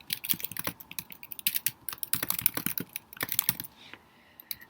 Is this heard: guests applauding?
no